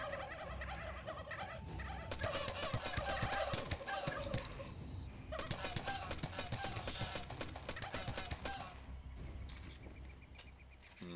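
Turkeys gobble repeatedly in a survival video game, with the calls overlapping amid dense game noise and brief bursts of action throughout.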